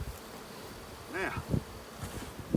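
Bees swarming around a hive box at an airport runway, a steady insect buzz with a few louder, closer passes, while a person nearby moves about briefly.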